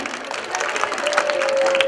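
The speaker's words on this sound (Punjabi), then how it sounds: "ਇੱਕ ਵਾਰੀ ਆਪਣੀ ਨਾਂ ਤੇ ਜ਼ੋਰਦਾਰ ਤਾੜੀ ਲਗਾਓ ਸਾਰੇ ਜਣੇ" A crowd at a Teej festival fair in a Punjab village claps steadily. The applause is moderately loud and continuous, with some cheering mixed in.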